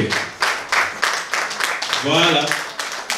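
Applause from an audience greeting shy children walking in a fashion show of a clothing collection, heard as scattered claps mixed with a voice talking over them, with a brief sung or hummed tone midway.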